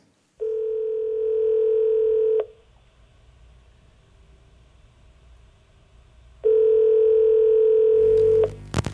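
A steady telephone tone sounds for about two seconds, falls silent, then returns for another two seconds, clear and close.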